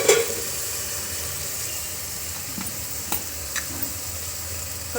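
Onions and green chillies fry in hot oil for Natukodi chicken curry, giving a steady close sizzle with occasional stirring scrapes and taps against the pan.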